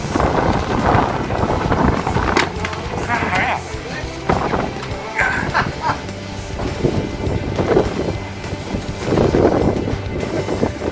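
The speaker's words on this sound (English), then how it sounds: "Whoa, that wind is just picking up." Strong wind gusts roar across the microphone outdoors on an Australian motorcycle ride near Glenrock, a loud, buffeting rush that surges and eases throughout, with people talking over it.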